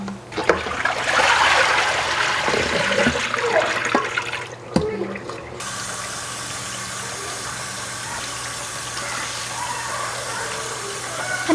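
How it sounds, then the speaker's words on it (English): Water streaming and dripping as salted cabbage is squeezed by hand for kimchi, a splashy gush that stops abruptly, then a steady soft trickle and drip continues. "Continue squeezing and trying to get as much water out as possible."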